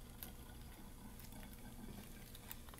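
Water pours through a funnel into a bottle for a CO2 gas-making demonstration, a steady faint trickle and gush that runs throughout with no speech.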